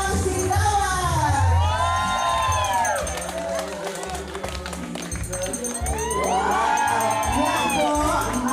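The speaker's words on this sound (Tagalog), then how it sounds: "Palakpakan po natin na may kasamang sigawan." Crowd at a 50th wedding anniversary celebration for a long-married couple cheers and shouts loudly, with bursts of clapping mixed into a dense, sustained wall of voices throughout.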